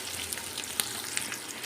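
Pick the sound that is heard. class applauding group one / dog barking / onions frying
onions frying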